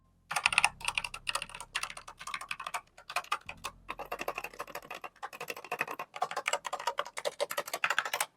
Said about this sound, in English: Very clicky, very hollow sounding is probably the best way I can put it.